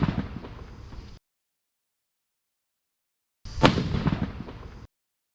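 Sivakasi firecrackers set off for the Diwali season, two separate bursts of rapid crackling pops, each lasting about a second, with a sharp bang in the second burst and silence between them.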